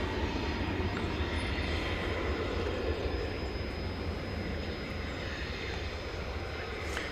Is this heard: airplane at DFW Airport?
yes